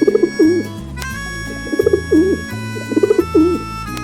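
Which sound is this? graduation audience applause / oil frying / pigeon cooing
pigeon cooing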